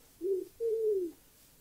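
A pigeon in the Minecraft game gives two clear coos, a short one followed by a longer drawn-out one, close and alone against quiet background.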